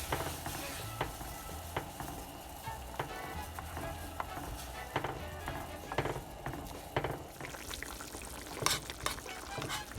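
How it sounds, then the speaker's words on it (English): Cuban enchilado de camarones, shrimp cooking in a thickened sauce, gives a steady low bubbling sizzle with scattered sharp clinks of stirring against the pan throughout. "When you add the shrimp, you're going to cook it for 5 minutes"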